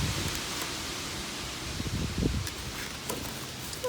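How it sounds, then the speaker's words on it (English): Steady wind buffeting and rushing outdoors, a constant noisy roar with slight gusts and faint rustling. "It's so windy out here."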